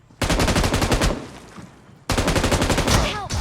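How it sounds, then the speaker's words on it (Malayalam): Shotgun blasts ring out in PUBG Mobile, two loud sustained bursts of rapid, evenly spaced shots broken by a short quieter gap, close and dominant, with no talking over them. "അയ്യോ ഷോട്ട് ഗണ്ണടാ"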